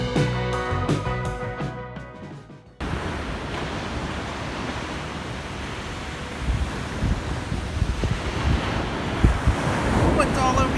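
Atlantic Ocean surf rolling in behind sand dunes, a steady broadband wash of waves with gusting wind buffeting the microphone; music fades out abruptly at the start before the wind and surf take over.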